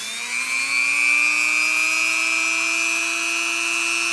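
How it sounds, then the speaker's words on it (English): A steady high-pitched whine of a small rotary tool running with a conical sanding bit on a brake line flare, its pitch rising slightly then holding constant, loud and close throughout. "So I switched over to this sanding bit, and it's a conical sanding bit."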